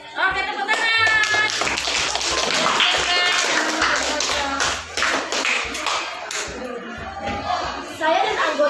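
Classroom group clapping at the end of a school presentation, a steady patter of many hands with voices and music mixed in, dipping briefly near the middle before picking up again.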